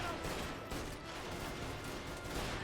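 Gunfire in the video game Mafia Definitive Edition crackles in dense, rapid bursts amid the game's muffled ambient noise. It stays fairly quiet and continuous throughout.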